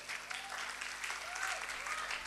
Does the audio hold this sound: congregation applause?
yes